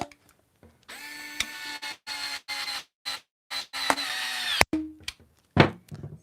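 Milwaukee M12 cordless plastic pipe cutter working through plastic pipe, a series of short, loud motor whirs starting and stopping in quick bursts with brief silences between, ending in a couple of sharp clunks.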